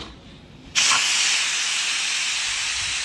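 A pressure cooker holding rice and red chicken suddenly releases its steam: a loud, close, sustained hiss bursts in after a quiet moment and keeps rushing steadily to the end.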